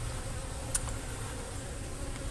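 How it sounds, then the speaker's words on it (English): Many honeybees swarm around an open feeder outdoors, producing a steady, faint, continuous buzzing hum that stays fairly even throughout with no talking. "you may have 100 bees on this thing at one time"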